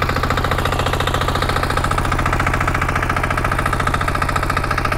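A motor tiller's small engine runs close and loud, a steady rapid chugging with a buzzing vibration and an even rhythm, with no talk.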